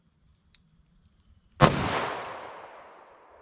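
A handgun fires a single Federal .410 shell of 000 buckshot at a target seven yards away, giving one sharp, loud blast that rings out and decays over about a second, preceded by a small click.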